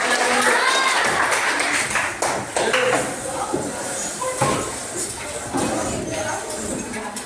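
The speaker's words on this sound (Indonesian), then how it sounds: "Tepuk tangan untuk kita semua." A classroom of students claps together for everyone after a movement exercise, dense clattering applause that is loud at first and thins out, with voices mixed in.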